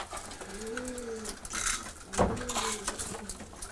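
Racing pigeons cooing in their loft, several soft rising-falling coos repeating close by over a faint background rustle, with no voices.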